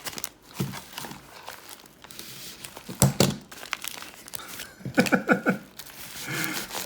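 Crinkling and tearing of an old paper envelope being pulled off a large Tighe Fighter knife, in irregular close bursts of rustles and crackles with a brief quiet stretch between them.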